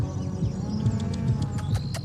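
Cattle lowing in a pen where bulls move toward a feeder, several deep moos rising one after another over a steady barnyard background, close and fairly loud with no talking.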